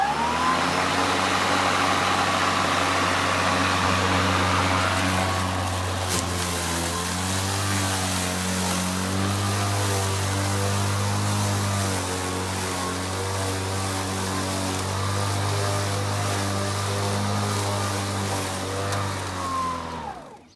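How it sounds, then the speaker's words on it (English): A Kobalt 20-inch self-propelled lawn mower cuts grass with a loud, steady engine drone close by, its tone wavering slightly under load before shutting off at the end. "let's go ahead and take a couple passes and see how this thing cuts"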